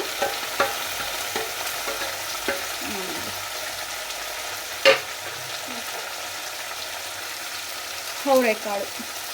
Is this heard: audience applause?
no